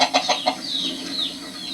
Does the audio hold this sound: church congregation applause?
no